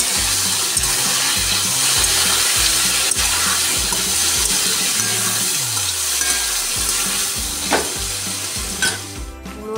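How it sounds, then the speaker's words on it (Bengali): Vegetables sizzling in hot oil in a wok with whole spices, bay leaf and dried chili, a loud, steady crackling fry close by, broken by repeated rhythmic scraping strokes of stirring. "লাল লাল করে ভেজে নেব।"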